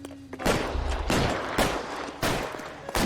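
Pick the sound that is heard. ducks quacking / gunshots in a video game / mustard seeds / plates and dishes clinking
gunshots in a video game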